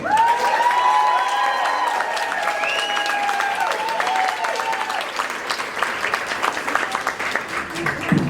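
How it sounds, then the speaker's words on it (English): A large crowd at a comedy benefit show applauds loudly with scattered cheers and whoops, the clapping thinning slightly toward the end. "put your hands together and make a lot of noise for Ann Duke"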